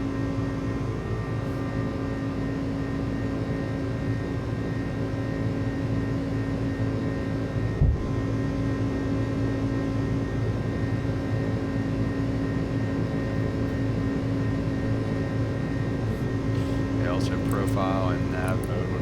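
Inside the cockpit of an Iran Air Airbus A300 airliner climbing after takeoff, a loud steady engine and airflow roar with a low hum fills the whole stretch, with a single thump midway and brief bleeps near the end.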